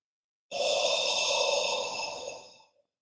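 Qigong spleen healing sound made as a guttural breath from the back of the throat, a single steady breathy exhalation lasting about two seconds that fades out at the end.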